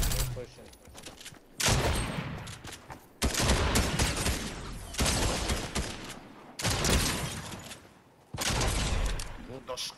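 Rapid bursts of automatic gunfire in a multiplayer shooter video game, loud dense volleys coming in several separate waves with short gaps between, alongside players' voices.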